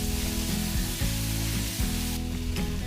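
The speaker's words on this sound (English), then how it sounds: "add onions and saute them for 2 minutes" Onions and sliced potatoes sautéing in a deep cast iron kadhai, giving a steady close sizzle with a few soft stirring shifts and no talk over it.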